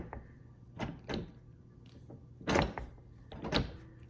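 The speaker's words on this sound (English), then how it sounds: "I close this safe all the way" The heavy steel door of a fire-rated gun safe is pushed shut and seats against its fire seal. Several separate clunks and knocks come from close by with quiet gaps between them, and no one speaks.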